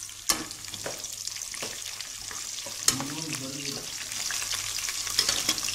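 Cumin seeds sizzle in hot oil for a village-style fish curry, a steady bright crackle with a few sharp clicks and stirring scrapes of a spoon in the pan.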